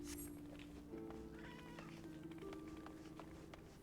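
A cat meows several times close by over faint game music in a quiet room.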